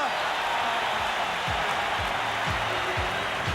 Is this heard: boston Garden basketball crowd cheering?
yes